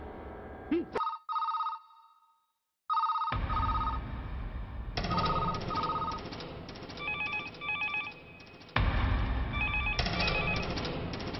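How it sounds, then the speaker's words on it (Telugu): An old telephone in a police station rings in repeated electronic trill bursts, broken by a brief silence and a clunk early on. Several phones seem to overlap later, with talking mixed in. "ఏ పోలీస్ స్టేషన్లోనూ ఫోన్లు ఎత్తడం లేదా?"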